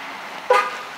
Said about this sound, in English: Honks twice, starts right up.